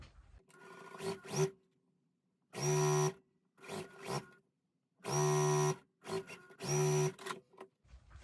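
Sewing machine stitching the final strip onto a quilt block: three sustained mechanical whirring bursts of a few seconds each, close and moderately loud, separated by short pauses and lighter handling noises.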